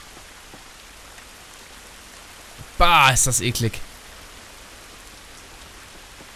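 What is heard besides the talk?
rain in The Last of Us video game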